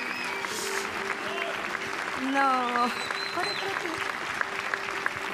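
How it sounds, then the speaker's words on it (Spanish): Steady studio-audience applause at a televised Teletón charity broadcast, moderately loud, with cheers and a few voices talking over the clapping. "Este es el aplauso para ellos."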